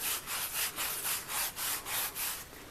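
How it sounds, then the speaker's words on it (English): Vinegar-soaked rust is rubbed off an old 1910s pop gun in rhythmic back-and-forth strokes, about eight close, scratchy swipes in a steady cadence that ease off at the end. "And I just keep rubbing away,"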